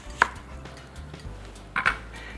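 An onion thinly sliced with a knife on a board, two sharp knife knocks with faint cutting sounds between them, close and quiet.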